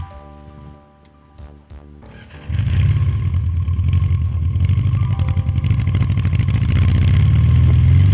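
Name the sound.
motorcycle engine idling low with frozen carburetor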